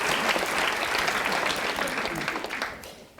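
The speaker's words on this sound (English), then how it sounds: "a big round of applause as our bondage expert leaves the stage" A stage show audience gives steady, fairly close applause as a bondage expert leaves the stage, dense clapping that holds evenly and then tapers off near the end.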